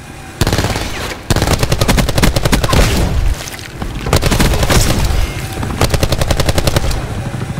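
Rapid automatic gunfire in Call of Duty: Black Ops 4, with loud sustained bursts broken by short pauses and a couple of heavier booms across the clip.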